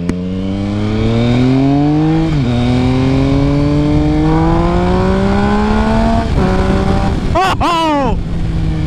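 A Triumph Speed Triple 1050 inline-three motorcycle engine hums loudly and close by. Its pitch climbs slowly as it revs, then it ends with a few sharp, rapid throttle blips.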